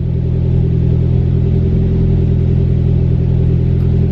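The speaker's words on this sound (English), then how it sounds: "I have an exhaust leak on this car" A car with an exhaust leak idles and runs steadily close by, a loud continuous low engine rumble with a constant drone and no pauses.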